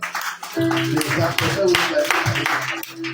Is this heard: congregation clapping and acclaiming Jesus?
yes